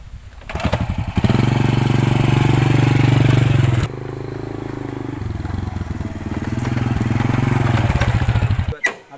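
A stalled motorcycle being started: the engine cranks, catches and runs with a loud close-up putter, cuts out abruptly, then restarts and idles unevenly before dying again.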